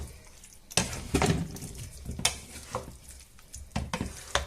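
Pasta and fish stirred together in a pan with a spoon, giving a soft sizzle under repeated scraping and clattering strokes, close and moderately loud.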